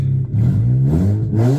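Replacement rotary engine in a Mazda RX8 idling after warm-up with a misfire, a loud close low burble that stumbles and surges unevenly as it breaks up, with no voices.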